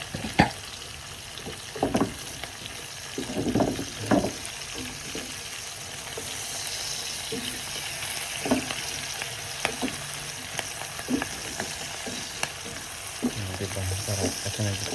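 Milkfish and pork pieces frying in a pan with garlic, giving a steady close sizzle with occasional stirring clatters and spatula scrapes throughout.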